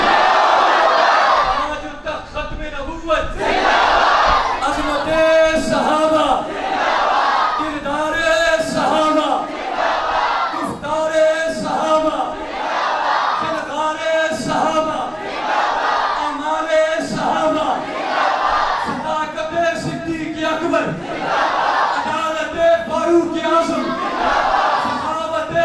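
A large crowd at a Shahadat Hussain religious conference in Ali Pur, Islamabad, roars back in answer to the Nara-e-Takbir slogan. Loud, repeated chanted bursts rise and fall in a steady rhythm, alternating with a leader's shouted call.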